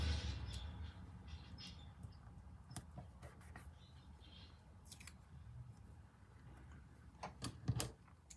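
Scissors snip through a strip of washi tape in a few short, quiet cuts, with faint rustling between them in an otherwise hushed room.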